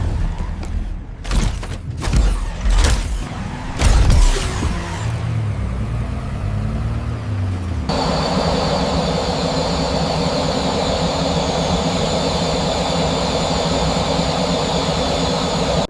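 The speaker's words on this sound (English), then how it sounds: "Listen to these engines roar." AI-generated engine sound from Veo 3: several seconds of revving and accelerating motor bursts give way to a steady, loud, broadband engine roar that holds for the rest of the clip.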